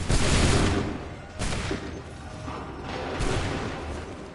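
A musket volley fired by a line of soldiers in Assassin's Creed 3: a loud, dense crackle of shots at the start, followed by two further rolling bursts a second or two apart amid battlefield noise.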